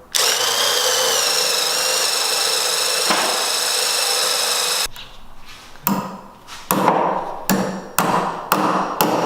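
A power drill whines steadily at high speed for several seconds, then bites into wood in short, rough bursts with pauses between them, drilling a hole for T-nuts in a miter saw workbench.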